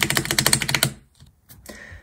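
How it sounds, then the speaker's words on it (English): Rapid typing on a custom mechanical keyboard with lubed switches, a dense run of loud, close keystrokes that stops abruptly, followed by a few sparse faint clicks. "A tutorial for your custom mechanical keyboard."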